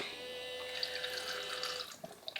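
Water poured into a cup with a little soap for washing gives a steady, close, gentle splashing stream for about two seconds, then a few small drips and clinks as it stops.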